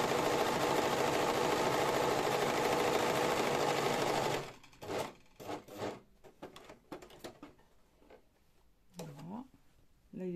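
An overlock serger stitches fabric at a loud, fast, steady whir for about four seconds, then stops, leaving scattered clicks and fabric handling while someone talks.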